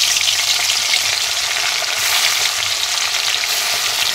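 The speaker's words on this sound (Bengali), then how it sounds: "তেল গরম হয়ে গেছে, মাছ ভেজে নেব।" Fish rubbed with salt, turmeric and chili powder fries in hot oil in a pan, giving a loud, dense, continuous sizzle close by with no talk over it.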